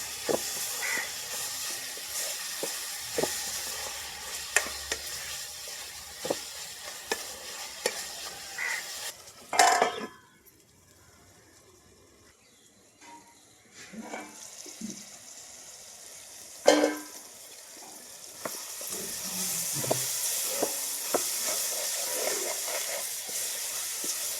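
Ginger, turmeric and salt fry in a pan for a country chicken stew, giving a steady close hiss and sizzle with scattered stirring clatters and a brief louder scrape, easing off midway before the sizzle builds again.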